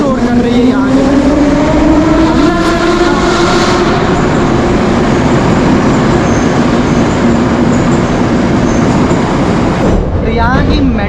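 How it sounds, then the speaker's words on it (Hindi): Loud, steady rumble of a Moscow metro train running, with a droning tone and rattling that fills the whole clip without a break. "तो यहाँ की मेट्रो शोर भले करती हो"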